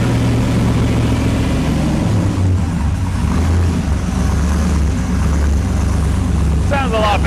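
An LS-swapped 1981 Pontiac Trans Am idles loudly on a new chambered exhaust, its deep, muffled engine rumble steady and close throughout, while people talk over it.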